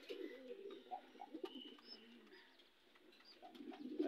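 Pigeons coo softly and repeatedly in a quiet indoor setting, low rolling calls overlapping with a few faint chirps, fairly close but gentle in level.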